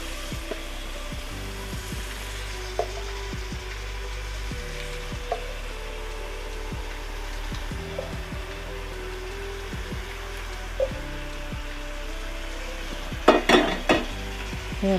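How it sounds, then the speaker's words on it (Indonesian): About a kilo of beef fries in a pan for rendang, with a low continuous sizzle and occasional light scrapes and clinks from stirring that grow busier toward the end. "Ini aduk-aduk."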